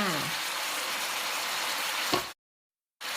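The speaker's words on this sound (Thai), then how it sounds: "ผัดให้ผักสลด ผัดพอสลดนะคะ" Mixed vegetables stir-fried in a pan until wilted, a loud continuous sizzle with stirring scrapes that cuts off abruptly into a short silence before resuming.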